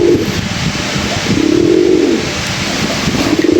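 Pigeons in a loft coo during pairing for mating, deep repeated throaty coos close by over a steady background hum, with no speech.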